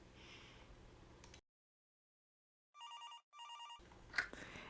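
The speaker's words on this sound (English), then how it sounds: "Every once in a while, the evidence custodian's phone will ring." Phone in the basement evidence room of the video game Entry Point rings in two short electronic bursts after a brief silence, with quiet game ambience before and after.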